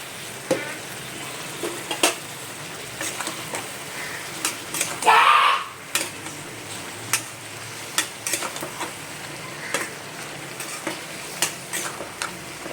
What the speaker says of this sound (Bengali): জিরের গুঁড়ো দিয়ে দিলাম, জিরের গুঁড়ো দিয়ে এবার আমি নাড়বো।